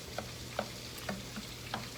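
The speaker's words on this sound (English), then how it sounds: "So we're going to move that around and saute it really nicely." Shrimp sautéing in a pan, a steady low sizzle with a few soft stirring scrapes at regular intervals, close and fairly quiet, with no voices.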